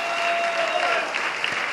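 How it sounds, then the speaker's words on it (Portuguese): Applause from a church congregation during a Sunday service, a dense, steady clapping that fills the room for the whole moment. "Vamos aplaudir a ele."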